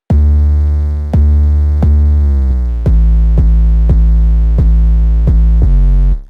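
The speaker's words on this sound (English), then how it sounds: "our bass, which is an 808, and it sounds something like this" A dry 808 bass from a pop beat in FL Studio plays a string of deep, booming sustained notes, loud and close, about eight hits shifting pitch in a slow pattern with no effects.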